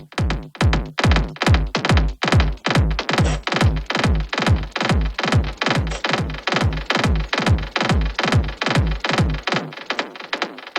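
An electric guitar played through a Safari Pedals Fox Echo chorus pedal, with steady, rapid strummed chords in an even, driving rhythm. It continues alone and fairly loud, then stops abruptly near the end.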